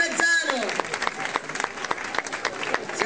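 Audience applause for a band at a live rock show in Castelmezzano, a dense burst of clapping with some cheering that carries steadily through the clip, loud and close.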